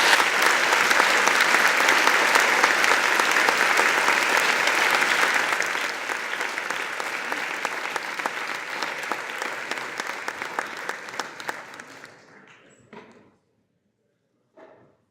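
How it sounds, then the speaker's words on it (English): Conference audience applauding in a hall, dense sustained clapping from many hands that gradually thins to scattered claps and fades out. "can we please give a round of applause to the two presidents?"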